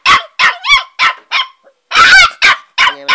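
A 50-day-old golden female H'Mong bobtail puppy barks in a rapid series of sharp, high yips and yaps, loud and close, with a short pause midway.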